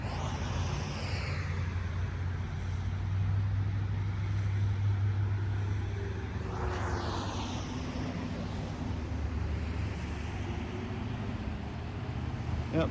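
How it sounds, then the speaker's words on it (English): A tornado warning siren wails in the distance, its rising and falling tone faint beneath the steady rumble and hiss of passing cars on a roadway. "Yep, definitely a tornado siren"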